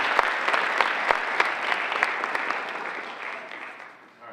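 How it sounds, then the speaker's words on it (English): A crowd at a fall high school sports awards night applauds, clapping densely with a few sharp nearby claps standing out early before the applause gradually fades toward the end. "So give yourselves a round of applause"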